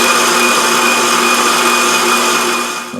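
An electric mixer runs nonstop while whipping chocolate meringue toward stiff peaks, giving a loud, even whirring drone up close that tapers off slightly at the very end.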